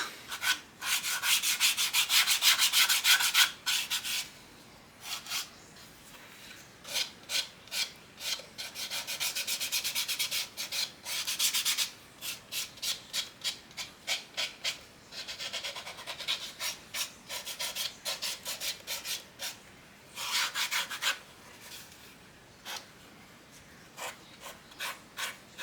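A Kydex knife sheath being hand-sanded with 240 grit sandpaper, in quick rhythmic bursts of scratchy rubbing with short pauses, close up and without talk.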